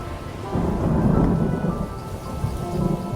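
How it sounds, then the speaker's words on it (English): Steady rain with rolling thunder fills the scene as a radio drama storm effect, a continuous loud wash of downpour with low rumbles and no voices. "looks like another storm coming"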